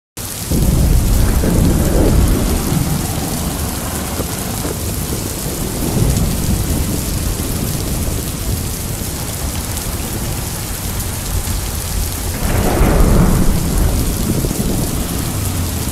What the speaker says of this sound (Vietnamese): Vừa mới nghe dự báo thời tiết đây mà đã mưa đến rồi.